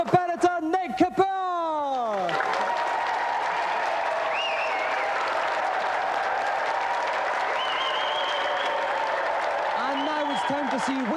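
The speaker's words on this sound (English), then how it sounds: "So let's have another round of applause for tonight's competitor, Nick Kapoor!" The Gamesmaster television game-show studio audience claps loudly and steadily for a contestant, sustained dense applause following a host's voice at the start, with faint electronic tones over it.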